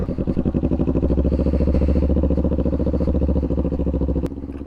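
Motorcycle rolling slowly in a practice area, its engine putting along in a steady, even pulse close by for several seconds before the sound drops away near the end.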